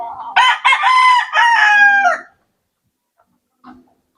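A gamecock rooster from a backyard breeder gives a single loud, close crow of about two seconds with a rising start and a long held tail, then falls silent apart from one faint short sound near the end.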